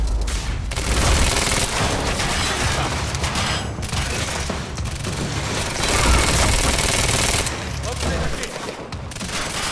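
Dense, sustained gunfire in the Quantum Break video game, loud rapid automatic bursts and booms nearly continuous throughout, with a voice briefly underneath.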